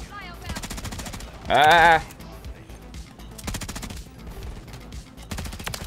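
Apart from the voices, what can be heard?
gunfire in the video game Modern Warfare III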